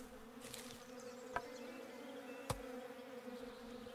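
Bees buzz steadily around a tree in the video game Above Snakes: a continuous low insect drone under a faint background hum, broken by two sharp clicks.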